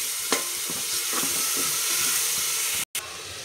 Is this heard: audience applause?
no